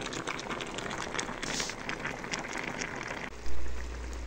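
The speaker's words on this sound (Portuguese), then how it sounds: "vou deixar ele ferver mais um pouco para virar daí mais" Sugar syrup bubbling in a pan on the stove, a steady soft crackling and sizzling simmer, followed near the end by a low thump.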